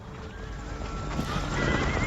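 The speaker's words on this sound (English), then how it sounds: "y'all didn't hear them horses coming, huh?" Several horses approach with a quick run of hoof clops on the ground and a whinny rising over them, the sound growing louder as they draw near.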